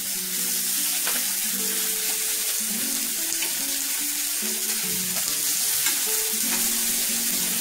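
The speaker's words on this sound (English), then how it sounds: "We're gonna get our chicken in there." Herb garlic chicken pieces fry in a hot pan, a continuous close sizzle with light crackles and occasional clinks and shuffles as the pieces settle, with no talking.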